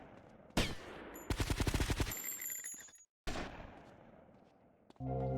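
Gunfire in GTA Vice City: a single loud shot, then a rapid automatic burst of closely spaced shots, followed by quieter scattered game noise.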